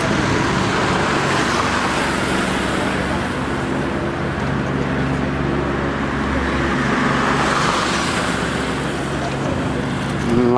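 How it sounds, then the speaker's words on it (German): Steady two-lane road traffic beside the East Side Gallery in Berlin, a continuous roar of passing cars with a nearer vehicle swelling toward the end and a voice talking over it. "der Verkehr läuft immer noch weiter da auf der anderen Seite zweispurig"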